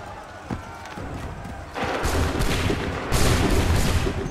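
Soldiers firing a musket volley in Assassin's Creed 3, a shouted command followed by a rising roar of gunfire that swells sharply twice, loud and close, with voices under the din.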